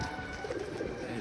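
Pigeons coo softly from a rooftop, a short low murmuring call heard close by against a light outdoor background.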